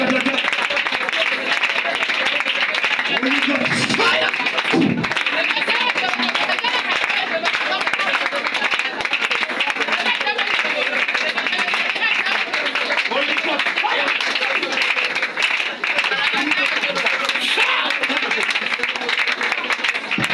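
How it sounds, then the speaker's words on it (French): A church congregation claps continuously during prayer, a dense, loud wash of hands mixed with crowd voices and a speaker's voice throughout. "Acclame et prie au nom de Jésus."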